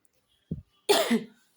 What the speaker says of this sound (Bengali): আমার ঠান্ডা লেগেছে, এই কারণে বারবার কাশি আসছে।